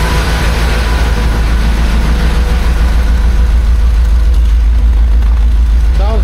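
A restored 1976 BMW 2002 engine idles on its first run, a loud, close, even low rumble that holds steady throughout.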